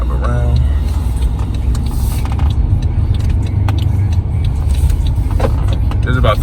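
A car drives through Baltimore city streets, its steady engine and road rumble continuous from inside the cabin, with light rattles and jingling over the constant drone.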